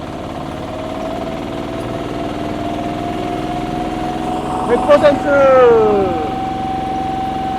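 A power tiller driven along a flat road drones steadily at high revs, then shifts through a few quick mechanical clunks before its pitch climbs as it accelerates. Someone talks over the engine.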